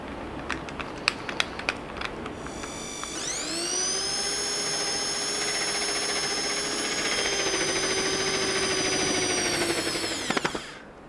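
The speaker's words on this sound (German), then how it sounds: "Dafür verwenden wir Forstnerbohrer, das sind diese hier." A Forstner bit bores into wood on a drill. A few sharp knocks come first, then a steady whining drill tone holds for about seven seconds and stops abruptly. It is close and moderately loud, with no talking.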